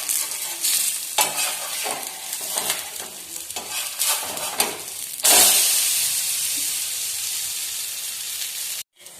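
An eggless chickpea-flour omelet fries in a pan after being flipped, a dense steady sizzle with scraping and stirring bursts early on, then a louder continuous hiss that holds until a brief cut near the end.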